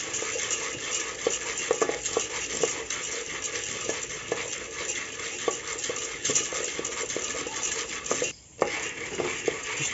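Popcorn stirred continuously in a pot, steady scraping and rattling of kernels against the metal with frequent sharp clicks, close and fairly loud, broken by one brief pause.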